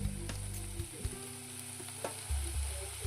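Large paneer pieces frying and being stirred in a pan for paneer bhurji, a close hissing sizzle punctuated by a few scraping stirs.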